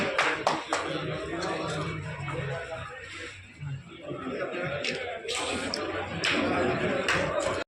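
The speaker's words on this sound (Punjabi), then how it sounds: "ਤਾੜੀਆਂ ਜੀ ਪਲੀਜ਼" Applause from the audience at a village Driver Day celebration in Jarg near Payal, Punjab: bursts of clapping rise and fall over the full span, mixed with crowd murmur and voices talking.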